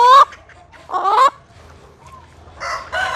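Chickens in a coop give three loud bursts of squawking and clucking, separated by quieter gaps, as they are caught for mange treatment.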